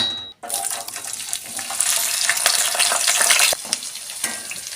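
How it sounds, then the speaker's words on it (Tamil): Small native garlic cloves sauté in sesame oil in a pan for a garlic tamarind curry, producing a loud, steady sizzle with stirring scrapes and clinks after a brief silent gap at the start. "இதை நம்ம முதல்ல லேசாக வதக்கி எடுத்துக்கலாம்"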